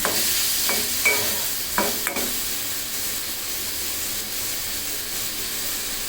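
Chicken frying with onion and garlic in a pan, a constant hissing sizzle with a few spatula scrapes and clanks in the first couple of seconds, then steady frying alone without talk.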